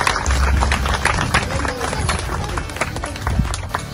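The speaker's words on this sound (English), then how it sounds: "can you stand up for a round of applause for everybody to know you?" Crowd at a school outreach event in Abuja clapping in a continuous round of applause, dense and close, mixed with crowd noise and voices.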